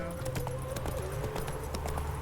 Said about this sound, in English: Why can't I frickin' ride my horse fast?